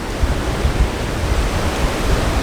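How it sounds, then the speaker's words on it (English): Broad steady surf wash from ocean waves rolling onto a Gulf of Mexico beach, a continuous loud roar with low rumbling surges and no voices. "Look at that beautiful, beautiful ocean."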